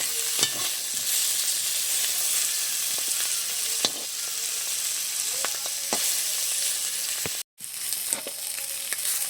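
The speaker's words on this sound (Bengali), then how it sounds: "আর এর পাশে মাছটা আমার প্রায় ভাজা হয়ে গেছে।" Fish frying in hot oil in a wok, a steady loud sizzle throughout with occasional crackles and spatters, no talking.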